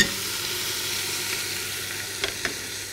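A steady close sizzle rises from food sautéing with salt and pepper in a pot, a continuous even frying hiss with a couple of faint clicks near the end.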